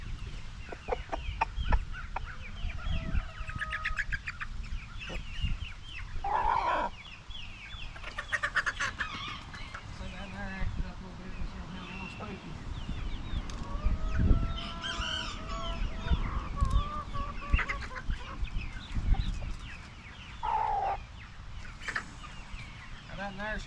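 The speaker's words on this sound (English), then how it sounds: "These are Rhode Island Reds, brown egg layers." Rhode Island Red chickens, a brown-egg laying breed on an East Tennessee homestead, cluck continuously while a rooster crows several times nearby, with occasional human voices in the flock's busy din.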